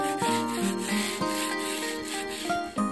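A stone headstone is scrubbed by hand to remove lichen, producing close, repeated rasping rubbing strokes in an even back-and-forth rhythm with no voices.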